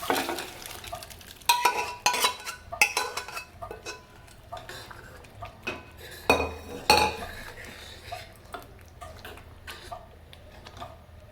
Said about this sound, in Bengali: ডালটা দিয়ে ভালো করে নাড়াচাড়া করে 2 মিনিট ফুটতে দেব